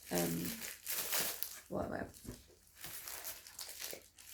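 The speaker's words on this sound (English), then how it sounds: "rustling in the ears" Close crinkly rustling and crumpling, like handled packaging, rising and falling in steady bursts across the whole stretch with no clear talk.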